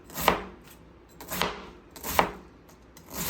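Cabbage being sliced with a knife for sauerkraut, four crisp, evenly spaced cuts, each a sharp crunch landing on a board, close and fairly loud, with no voices.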